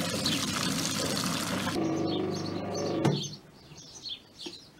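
Water drains from a vintage Hotpoint Countess washing machine hose into a bucket, a loud continuous rushing pour that cuts off after a couple of seconds, leaving faint trickles and outdoor birdsong.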